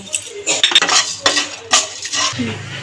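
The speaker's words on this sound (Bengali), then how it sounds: "এবার আমি খালি কড়াইয়ের মধ্যে তেজপাতা, ধনে, গোলমরিচ, লং, এলাচ, দারচিনি আর জিরে দিয়ে একটু নাড়াচাড়া দিয়ে কিছুক্ষণ ধরে ভেজে নেব।" Whole spices (bay leaves, coriander, black pepper, cloves, cardamom, cinnamon, cumin) are stirred dry in an empty wok. Several close rattling scrapes and metallic clinks of a spoon against the pan sound over a few seconds.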